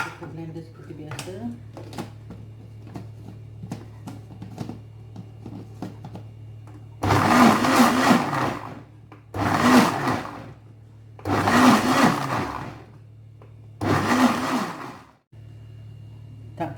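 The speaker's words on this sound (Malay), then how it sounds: "kita blender seperti biasa" An electric blender whirs through pomelo for a low-sugar jam in four loud bursts of a few seconds each, separated by short pauses, following a stretch of quieter kitchen sounds and talk.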